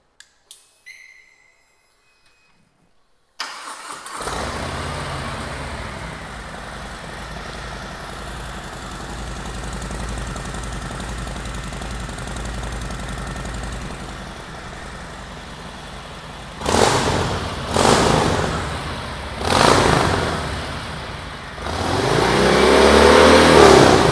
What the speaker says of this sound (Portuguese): Vou ligar a moto aqui.